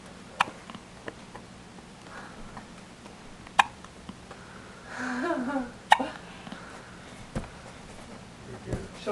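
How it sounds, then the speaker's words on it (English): A baby's hiccups sound in short, sharp bursts spaced a second or two apart at close range, faint room noise between them and a soft voice murmuring partway through. "Those are baby hiccups."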